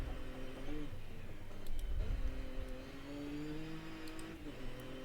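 A Nissan Z NISMO sports car in the Forza racing game holds a steady engine drone through corners, pitch sliding up and down with throttle, moderately loud with a faint whine.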